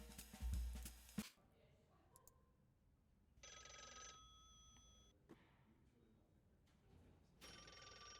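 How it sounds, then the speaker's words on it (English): A telephone rings indoors in repeated bursts, each ring a bright electronic trill lasting about a second and a half, separated by a longer pause, heard over a low room hum with faint background activity. "The phone ringing in here is bothering me because I can't answer that either."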